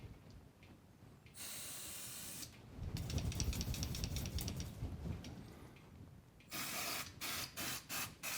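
Aerosol brake cleaner sprays from a can onto a 1989 Pontiac Firebird Trans Am during servicing, in a long steady hiss, then a rougher stretch, then several short sharp bursts near the mic.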